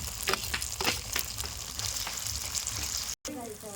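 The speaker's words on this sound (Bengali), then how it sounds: "এবার দিচ্ছি রসুন বাটা" Garlic paste sizzling as it fries in hot oil for a chicken curry, a steady close hiss with a few sharp crackles and a brief cut near the end.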